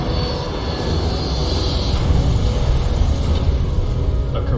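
A Korean Air Boeing 747 cargo jet, engines on fire, passing overhead with a loud, sustained roaring rumble that swells slightly as it goes over, with no voices.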